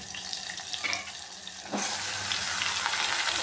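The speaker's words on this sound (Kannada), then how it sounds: "ಸ್ವಲ್ಪ ಎಣ್ಣೆಲಿ ಫ್ರೈ ಮಾಡ್ಕೊಂಡಿದ್ದೀನಿ" Mutton chops frying in a little oil give a steady close sizzle that jumps louder partway through, with faint clinks before it and no talking.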